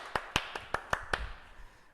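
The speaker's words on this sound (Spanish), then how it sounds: "un aplauso para el participante" A handful of sharp, separate hand claps ring out in a psychology classroom lesson, about six quick strikes spread unevenly over two seconds, close and fairly crisp, with no talking over them.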